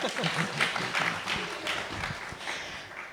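A crowd applauds with dense, scattered clapping that continues steadily throughout, heard from within the audience.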